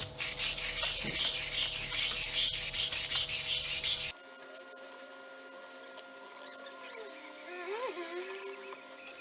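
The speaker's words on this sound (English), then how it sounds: "First I'm going to level with 1500 grit, wet sanding." Wet sanding guitar lacquer with 1500 grit sandpaper, a rhythmic rubbing scrape of repeated strokes for about four seconds, then a sudden cut to quieter background hum with faint squeaks.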